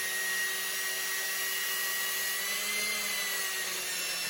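Steady, constant high whine of a small drill bit boring through a plastic oil dipstick, with an even tone and a faint low hum beneath, holding unchanged from start to finish with no talk.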